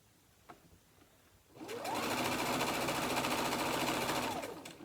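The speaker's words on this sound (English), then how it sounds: "I'm going to continue to sew these blocks until they are all complete" After a quiet moment, a sewing machine starts up and hums in a steady, fast, even run while stitching quilt blocks, close and fairly loud, alone without talk.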